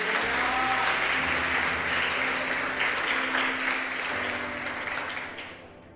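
A church congregation applauds in a full, sustained roar of clapping over a low held organ-like tone, gradually tapering off in the final second.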